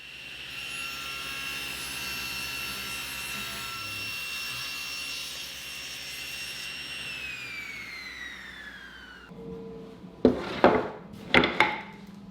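A circular saw blade cuts through a wooden board, a steady high whine running for about nine seconds before spinning down, followed by a few sharp knocks as the cut piece is handled.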